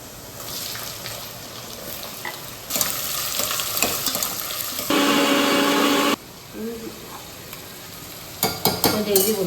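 Onion, potato and garlic frying in a pan for a curry, with a loud sizzle, scraping stirs and a burst of tap water, up close in a home kitchen.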